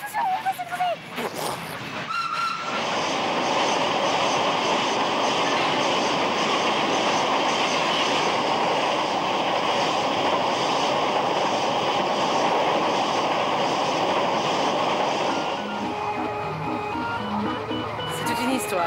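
A train runs along the rails, its loud rumbling roll with rhythmic clickety-clack and some wheel squeal holding steady for most of the stretch, with brief talk and other noise at the start and the end.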